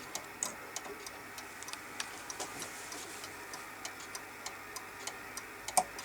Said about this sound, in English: The middle bit is the actual time ticking